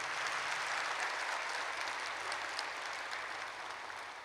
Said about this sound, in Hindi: एक बार तालियां बजाओ जोरदार।